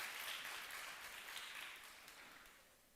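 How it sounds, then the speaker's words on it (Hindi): Soft audience clapping in a hall, a faint rush of many hands that gradually tapers off over a few seconds. "ताली अच्छे से बजा सकते हैं।"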